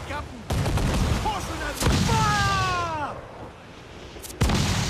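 Ship cannons fire in the naval combat of Assassin's Creed 4: Black Flag, with several heavy booming shots spaced a second or two apart, each leaving a rolling rumble, among game voices and music.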